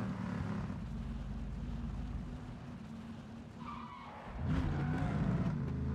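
A car in the video game PUBG drives along with a steady engine drone, then its tires skid and squeal briefly before the engine surges louder, with no talk.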